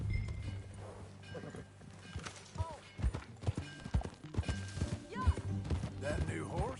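Horse hooves clip-clop at a steady riding pace in a PS4 video game, with a voice speaking over the hoofbeats and soft background music underneath.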